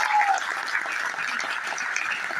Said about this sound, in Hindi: एक जोरदार ताली चाहूंगा उनके लिए,